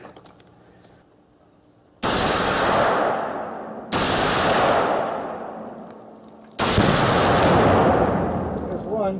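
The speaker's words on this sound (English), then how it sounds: "We'll be shooting with the AR-15." AR-15 rifle shots setting off homemade exploding targets at about 50 to 60 yards, three sharp loud cracks merging into booming blasts that ring and slowly decay outdoors.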